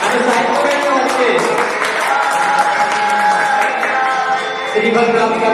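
Children clap steadily at a school farewell ceremony at Taranam Gurukul Semalkhedi. The sustained, fairly loud applause fills the room while a voice talks over it.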